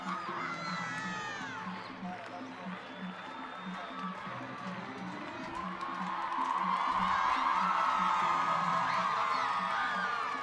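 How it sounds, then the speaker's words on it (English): Women's hockey fans in the stands at an England versus Argentina Champions Trophy match, a distant crowd murmur swelling into louder cheering and whoops, with a commentator talking over it. "And the fans cheering relief, I think, that Amar's up"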